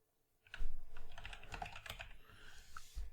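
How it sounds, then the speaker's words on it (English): Fast typing on a computer keyboard, a quiet close burst of clicking keystrokes lasting a few seconds after a moment of silence, with no speech over it. "I'm going to type example customer name."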